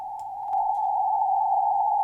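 A steady, continuous tone from a VLF radio receiver tuned to a 37.5 kHz transmitter, heard alone as an unbroken hum with a faint crackle of static that swells slightly louder partway through.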